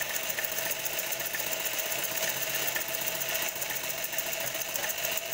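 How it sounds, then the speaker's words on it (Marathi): A sewing machine runs close and steady, stitching a second seam along fabric to form gathers, with a continuous rapid mechanical chatter and no pauses. "आणि अशा पद्धतीने मी पहिली शिलाई मारून ठेवलेली आहे आणि दुसरी शिलाई कंप्लीट करत आहे।"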